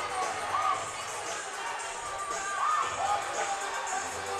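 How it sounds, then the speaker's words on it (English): Crowd cheering and shouting at an NBL1 men's basketball game between Nunawading Spectres and Ballarat Miners, with a cheer squad and dancers performing; a steady, loud wash of arena crowd noise with scattered whoops throughout. "Good to see they've still got the cheer squad going out there."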